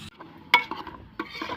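Salt being stirred into mushroom biryani in a pot over a wood-fired stove, with short scraping stirs and a sharp clink of a spoon against the pot near the middle, close up.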